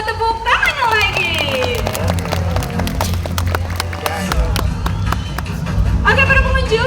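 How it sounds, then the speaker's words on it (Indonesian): Audience at an owl show at Taman Safari Indonesia in Bogor claps and cheers, a burst of applause under a presenter's amplified voice, with rustling crowd noise throughout. "Dan untuk burung hantu Taman Safari Indonesia, mana dong kasih semua tepuk tangan lagi"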